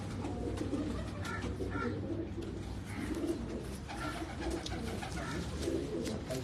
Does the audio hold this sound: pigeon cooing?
yes